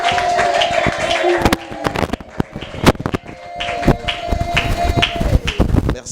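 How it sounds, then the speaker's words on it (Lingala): Church audience clapping hands together in a lively burst of applause, dense rapid claps mixed with crowd noise and a sustained musical tone, continuing for several seconds. "tokoyi kobeta maboko po aloko"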